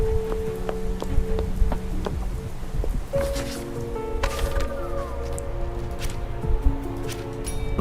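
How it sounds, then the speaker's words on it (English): Rain falls at an angle in a video game, a steady hiss and patter running throughout alongside sustained tonal game sounds and occasional sharper drips. "It's raining from an angle?"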